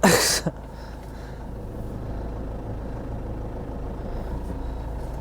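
Camper van conversion rolling slowly onto a weighbridge: a brief clunk at the start, then a steady low engine rumble, close and even, running to the end with no talking.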